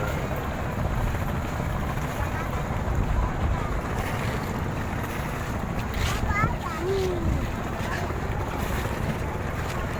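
A boat at the busy Tanjung Tiram harbour at dusk, heard under steady wind buffeting the microphone and washing water, with faint voices and a brief tonal horn or whistle.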